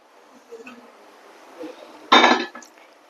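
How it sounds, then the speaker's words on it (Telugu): Ingredients tipped into a steel bowl in a home kitchen: a quiet lead-in with faint soft taps, then one sharp, bright metallic clink and clatter that rings briefly and fades. "ఇక్కడ పోసుకోవాలి గిన్నెలో పోసుకొని అట్లే పోసేసుకున్నామంటే"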